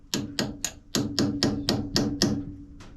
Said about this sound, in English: I'm just lightly gonna tap it and see if it'll turn out.